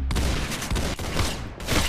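Rapid gunfire in the Roblox shooter Arsenal crackles in a dense, continuous barrage of overlapping shots, loud and close, with only a brief dip partway through.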